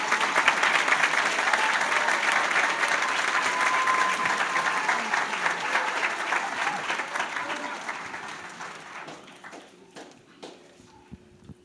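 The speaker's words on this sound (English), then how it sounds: "Give her a big round of applause" Sustained applause from a graduation audience at a college adult high school and equivalency ceremony for a graduate, steady at first, then thinning to scattered claps and faint footsteps as it fades out.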